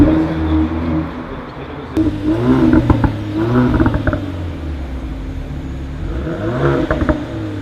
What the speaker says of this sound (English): you get to know the sound of the engine